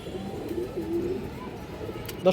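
A healthy pigeon coos softly among other birds at a pigeon market, with low murmuring under a faint hum.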